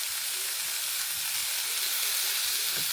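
Food sizzles steadily in a hot pan, a constant close hiss and crackle with no pauses, nobody talking.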